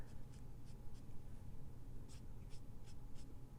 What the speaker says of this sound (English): brush scraping on the paper.